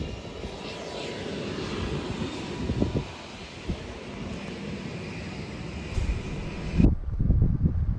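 Cabin of a North Carolina Forest Service firefighting helicopter in flight: a steady, dense roar of engine and rotor with broadband wind noise, continuous and close, shifting slightly near the end.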